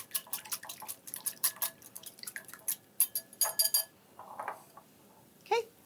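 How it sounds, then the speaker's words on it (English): Two large eggs whisked together in a bowl for zucchini fries, a quick run of light clinking utensil taps against the bowl that slows and stops, with a couple of isolated clicks afterward. "we just need to whisk them together a little bit"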